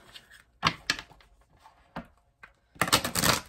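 A deck of tarot cards is shuffled in a few quick, papery riffling bursts separated by short pauses, ending in a louder flurry of card shuffling, close and with no talking.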